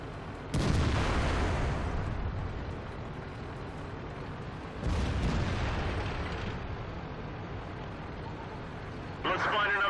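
Tank cannon shots from an IS-8 heavy tank in the World of Tanks video game, Swamp map: two loud booming blasts several seconds apart, each with a long rumbling decay, followed by a brief metallic clatter.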